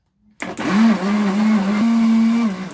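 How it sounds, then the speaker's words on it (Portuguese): An electric blender whirs steadily for a few seconds, loud and close, as it mixes a sponge dough for soft garlic bread filled with mozzarella, starting abruptly and with no talk. "Deixa eu tirar aqui o liquidificador pra ficar mais fácil"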